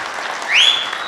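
An audience at the introduction function for the film Yamaleela 2 claps steadily, with a sharp rising whistle cutting through the applause midway.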